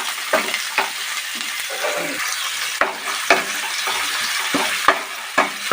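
Chopped onions frying and being stirred in a pan, with a steady sizzle broken by repeated scraping strokes of a spoon, close and clear with no voices.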